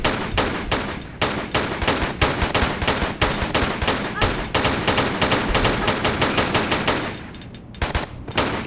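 Rapid, continuous gunfire in Tomb Raider III: loud automatic bursts rattle almost nonstop, with only a brief lull near the end.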